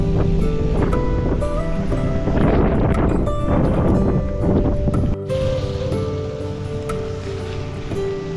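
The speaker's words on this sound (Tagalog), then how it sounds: "Talagang mararamdaman mo yung buong puwersa ng hangin, walang nakaharang." Strong wind buffets the microphone during a downhill road bike ride from Kayapa to Santa Maria, a continuous loud roaring rush with heavy low rumble that briefly drops off and then resumes slightly softer.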